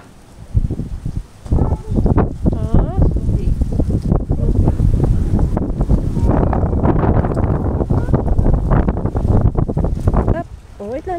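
Strong wind buffets the microphone in loud, rumbling gusts, with people talking underneath and faint water sounds in the background.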